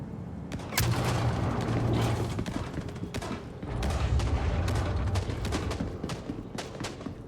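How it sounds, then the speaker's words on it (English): Gunfire in the space game Star Citizen: a long stretch of rapid bursts and sharp cracks layered over a dense rumbling roar, loud and continuous, with a brief lull midway before the shooting resumes. "I think they're shooting my damn mule."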